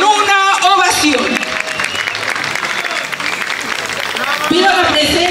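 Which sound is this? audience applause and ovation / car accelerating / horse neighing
audience applause and ovation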